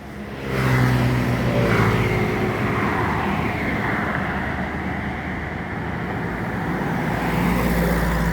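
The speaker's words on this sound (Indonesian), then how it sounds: "Ada satu unit bus Giri Indah." Giri Indah intercity bus from Jakarta passing on a road in Palembang: its engine swells up close and loud within the first second, then a steady roaring drone of engine and tyres holds throughout amid traffic.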